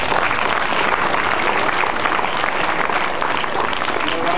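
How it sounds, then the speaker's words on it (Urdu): Steady, dense applause fills a hall at a school scout award ceremony, the audience clapping loudly and evenly throughout with a faint murmur of voices beneath. "اس کے لیے تالیاں میری طرف سے"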